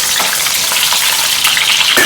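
Bitter gourd pieces fry loudly in a pan, a dense, close crackling sizzle with a brief stirring scrape, continuous and with no talking.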